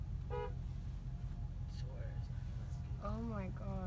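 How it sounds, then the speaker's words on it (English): A car horn sounds a couple of short toots in traffic, with a voice briefly heard and a low engine rumble underneath throughout. "Honk."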